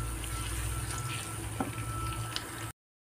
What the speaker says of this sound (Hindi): प्याज फ्राई हो रहा है,